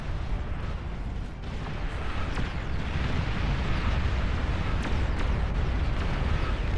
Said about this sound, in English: The old lol cannon duel.